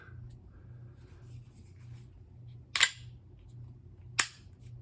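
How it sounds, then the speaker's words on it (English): An airsoft CO2 pistol's slide snaps back and locks, producing two sharp metallic clacks about a second and a half apart. They ring out clearly over a low, steady room hum. "It locks back like a real pistol"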